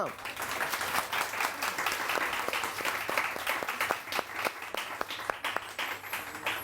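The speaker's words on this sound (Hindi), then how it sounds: "बहुत सारी तालियां." Studio audience applause on a morning TV show, steady clapping with sharp individual claps standing out near the mic, continuing for several seconds.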